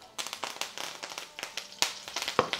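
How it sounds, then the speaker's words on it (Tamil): Dried red chillies and curry leaves crackling in hot oil for sambar, a fast irregular run of sharp pops and spits, close and fairly loud, with no voices. "இப்போ இது எல்லாத்தையும் வறுத்து எடுத்துக்கோங்க."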